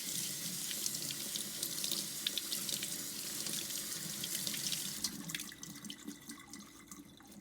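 Sea moss being rinsed under a running kitchen tap, a steady broad rush of water splashing into the sink that eases and turns patchier near the end, with no talking.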